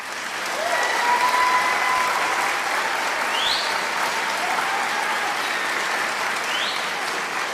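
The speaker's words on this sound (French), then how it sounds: "applaudissements pour le curé" A church audience applauds a priest with steady, dense clapping that holds from start to finish, loud and close, with faint voices beneath.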